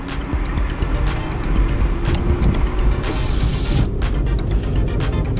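Interior of a VW e-up electric car driving in drive mode, with a steady loud road and tire rumble and wind noise, no engine note.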